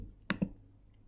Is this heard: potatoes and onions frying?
no